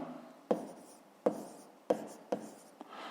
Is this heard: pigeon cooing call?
no